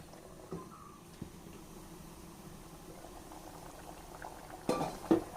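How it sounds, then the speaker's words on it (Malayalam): Cauliflower curry gravy simmering on a low flame, a faint, soft bubbling hiss that goes on steadily, with a couple of brief louder clatters near the end and no speech. "ഇനി ഈ കോളിഫ്ലവറും ഈ ഗ്രേവിയൊക്കെ ഒന്ന് സെറ്റായി വരട്ടെ"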